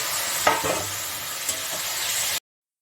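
Bottle gourd pieces dropped into ginger and cumin paste fried in oil sizzle loudly and steadily, with a couple of sharp stirring clatters, before the sound cuts off abruptly.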